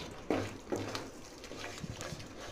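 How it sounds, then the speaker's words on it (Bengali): Water used for soaking paneer is poured into a hot pan holding khoa kheer, with soft, steady splashing and a couple of sizzling bursts up close, fairly quiet throughout. "এর মধ্যে আমরা পনিরটা যে জলের মধ্যে ভিজিয়ে রেখেছিলাম ওই জলটাই দিচ্ছি"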